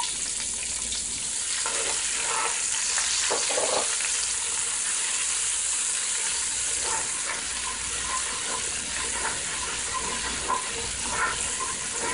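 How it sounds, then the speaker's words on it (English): Onions and garlic sauté in a pan for a Jamaican mackerel rundown with shrimp, a continuous close crackling sizzle with faint stirring scrapes and no voices. "I'm sauteing my onions."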